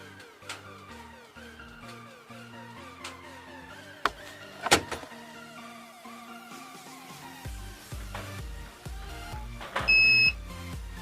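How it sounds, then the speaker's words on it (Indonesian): An aftermarket RFID start-stop engine system in a car gives a short pair of high electronic beeps near the end as it switches off, heard over a steady background of other sound. "Nanti setelah 30 detik dia akan ada bunyi bip bip, artinya dia sudah off."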